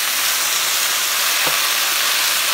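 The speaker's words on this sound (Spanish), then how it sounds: "Simplemente le puse un poquito de aceite. Ya el pollo está adobado, ¿verdad? Y lo vamos a cocinar así." Marinated, chopped chicken breast fries in a little oil in a pan, giving a loud, steady sizzle and hiss with no break, alone and close up.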